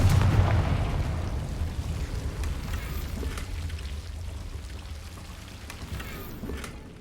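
A blasting spell explosion in Hogwarts Legacy gives one low booming burst at the start that decays into a long rumbling, crackling tail, loud and close with no voices.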